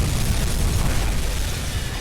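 A torpedo hits a ship in the submarine game UBOAT, setting off a loud, deep, rumbling blast that fills about two seconds and stays heavy throughout with no voices over it.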